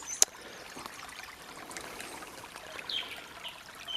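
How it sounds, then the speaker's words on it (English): Water flowing down a channel on a farm, a faint steady trickle with a sharp click near the start and a few small squeaks, otherwise quiet with no talk. "there's the water flowing down"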